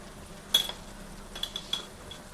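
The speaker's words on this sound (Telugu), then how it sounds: "ఇలా కలుపుకోవాలి ఇప్పుడే" Spoon stirring chili powder and salt into drumstick pieces in a metal vessel, a few light clinks and scrapes scattered over quiet background.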